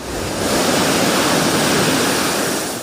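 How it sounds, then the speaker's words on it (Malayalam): Rough sea surf pounding the Kasaragod coast in a continuous loud roar of breaking waves, with strong wind adding a broad rushing wash close to the microphone. "കാസർഗോഡ് തീരദേശ മേഖലയിൽ കടലേറ്റം രൂക്ഷമാണ്."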